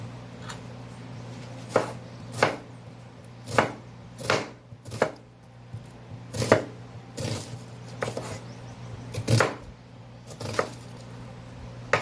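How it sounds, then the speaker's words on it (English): A knife chops half a medium red onion on a cutting board in a dozen or so crisp, irregular strokes, close up, with a faint steady hum underneath and no speech. "I will be using half of a medium-sized red onion. So let me chop this"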